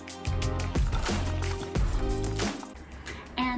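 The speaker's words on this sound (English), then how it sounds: "we'll give this another good stir" Apple carrot juice is stirred in a container, giving close sloshing, swirling liquid sounds in a few uneven strokes over a few seconds.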